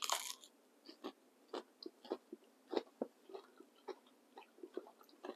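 Crunchy chewing of fried bluegill fillet coated in Louisiana seasoned crispy fish fry batter, heard as a quiet, close, irregular series of crisp bites and crunches with no speech.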